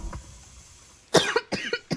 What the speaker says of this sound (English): Sorry. I had to cough a little bit.